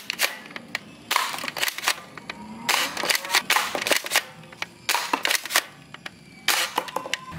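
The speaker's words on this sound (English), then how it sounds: "Super blaster gun!" A toy blaster gun fires in bursts of sharp clicking and snapping shots, some quick rapid runs and some single pops, close and fairly loud with short gaps between volleys.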